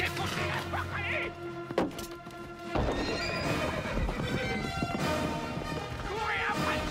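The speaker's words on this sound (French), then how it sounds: "Courez après le cheval, mon idiot!" A horse whinnies loudly amid a chaotic scene in a fantasy film, hooves clattering and something crashing, while voices shout over the commotion.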